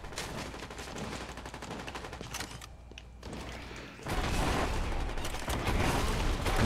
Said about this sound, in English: I see the shooting